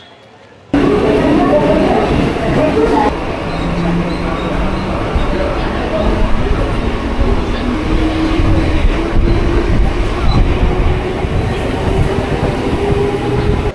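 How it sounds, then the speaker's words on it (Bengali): A Mumbai local commuter train bound for Churchgate rumbles along steadily and loudly, with rhythmic clatter of wheels and a rising whine, heard from inside the carriage throughout. "এখান থেকে চার্চ গেট লোকাল নিয়ে পৌঁছতে হবে চার্চ গেট স্টেশন"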